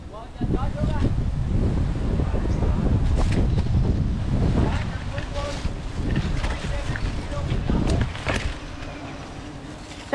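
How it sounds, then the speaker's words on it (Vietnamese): Strong wind sweeping through the Vietnamese countryside during a wild honey hunt, a steady loud buffeting roar on the microphone throughout, with people speaking over it. "Quá gió không anh ơi."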